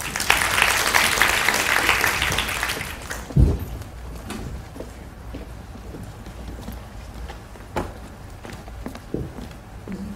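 A crowd at a youth working-holiday information session applauds to welcome an official to the stage, with loud dense clapping for about three seconds that then fades into quieter room noise and a few scattered thumps.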